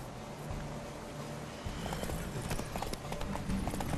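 Horse hooves clip-clopping at a gallop during a race in The Witcher 3 video game, a steady rhythmic pounding with whinnies and game ambience, growing slightly louder toward the end.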